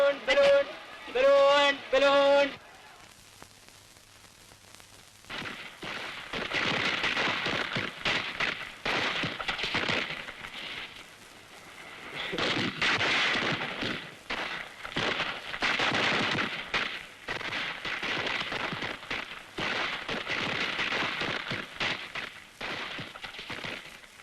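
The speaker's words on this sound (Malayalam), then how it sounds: "അതല്ലേ എന്റെ മന്നി വെടിക്കെട്ട് കാണുന്നില്ലേ?" Temple festival fireworks crackle and pop in dense, rapid bursts for about twenty seconds after a brief tonal opening, loud and continuous with short lulls between volleys.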